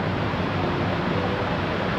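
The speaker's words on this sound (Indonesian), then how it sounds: "Sekarang kita tengah lepak mandi air terjun" A jungle waterfall on a Gunung Tapis day hike, where people bathe, roars as a loud, steady, close rush of falling water with no voices over it.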